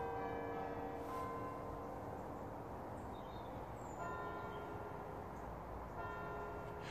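Church bells ring out for nine o'clock by the River Ribble, a steady, resonant tolling heard from a distance over continuous outdoor ambience with no talk.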